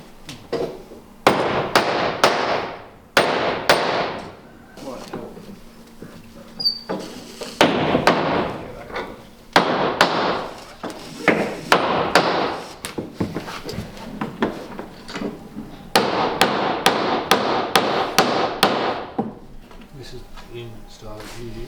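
Bursts of rapid, sharp hammer strikes come in clusters with pauses between, close and loud, with people talking in the gaps, while laminating bulwarks on a wooden boat.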